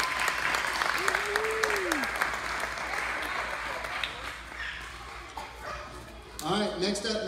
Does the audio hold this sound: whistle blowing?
no